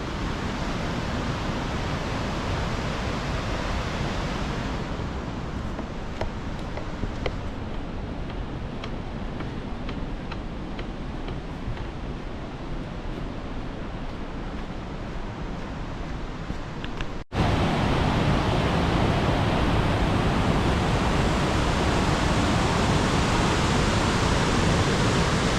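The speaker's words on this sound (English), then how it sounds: "And this is the Merced River." Yosemite's Merced River flows in winter as a steady, broad rushing roar that stays constant throughout, heard from a distance, then swells noticeably louder and closer partway through.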